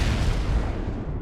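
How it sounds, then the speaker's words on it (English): An explosion sound effect booms loud and close, a dense roaring burst that fills the clip and fades away toward the end, with no talking. "a little exploding never hurts."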